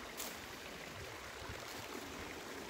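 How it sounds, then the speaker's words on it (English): Water flowing in a small local brook, a steady, soft broadband rush and trickle heard close by and alone, without any talk. "I just like to see if you can hear the sound of the water."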